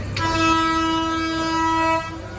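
A train blows a long, loud horn close by for about two seconds, over the rumble of rail traffic.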